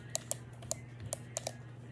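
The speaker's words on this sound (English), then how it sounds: "Y'all can, like, hear my clicking right now." Sharp, irregular clicks of a keyboard and mouse during a Roblox Bedwars game, close to the microphone over a low steady hum, with no talking.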